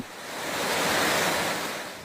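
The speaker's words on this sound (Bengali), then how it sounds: "ভারী বৃষ্টিতে তলিয়ে গেছে মেট্রো স্টেশন, স্কেলেটর বেয়ে পড়ছে পানি।" Floodwater pours down an escalator into a metro station swamped by heavy rain, a steady, loud rushing roar that swells slightly in the middle and carries no voices.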